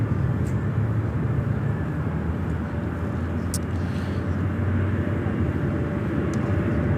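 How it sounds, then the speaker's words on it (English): An American Airlines A319 airliner approaching LAX, a steady low engine rumble at moderate distance with faint ticks over it. "This American A319 is coming in from Fort Myers, flight 2517."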